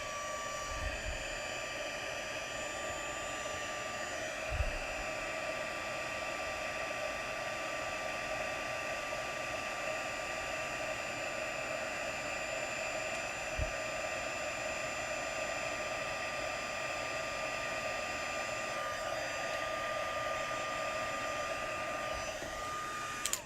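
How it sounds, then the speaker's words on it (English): A craft heat tool blows steadily to melt and emboss powder on a Stampin' Up! Halloween slimline card, a constant even whooshing hum with a few faint knocks, no talk. "we're going to take our heat tool, and we're going to turn it on 2 to make it turn shiny and popped up"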